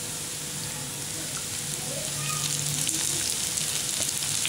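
Potatoes cooking in oil with masala for gongura potato fry, giving a steady close sizzle with a soft hiss that grows a little louder halfway through, with no talking.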